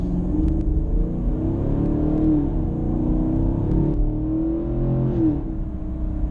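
A Chevrolet Camaro sports car engine drones steadily from inside the cabin, its pitch climbing and then dropping sharply as the gears shift, with a low road rumble throughout.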